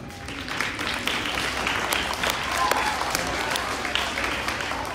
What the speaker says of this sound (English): the class gave him a round of applause